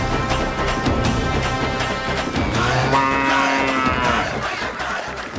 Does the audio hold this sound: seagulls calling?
no